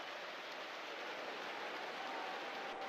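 Steady, even hiss of heavy rain pours down throughout a football video game match, a continuous wash of noise with no talk over it.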